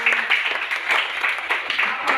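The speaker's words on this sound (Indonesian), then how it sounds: "Baik, tepuk tangan buat teman-teman." A classroom of students applauds their classmates, a close, lively burst of many hands clapping unevenly throughout.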